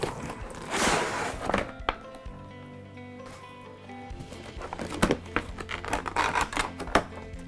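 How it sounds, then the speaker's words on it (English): Cardboard box holding a Kodak LED light box being opened by hand: a run of scraping, tearing and flap-rustling noises with sharp thumps and taps, close and fairly loud, with no talk. "let's go ahead and open up this box and check it out"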